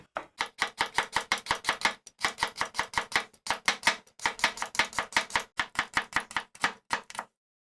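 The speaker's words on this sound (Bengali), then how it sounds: "আমটাকে জাস্ট একটু কুচিয়ে নিতে হবে।" Raw green mango, peeled, being chopped with a knife on a board: rapid, even, close knocks in quick bursts separated by short pauses, ending in silence.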